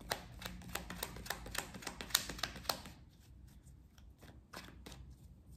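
Tarot cards are shuffled close by for a nine-card spread, a quick run of crisp riffling snaps followed by softer, sparser card sounds, with no talking.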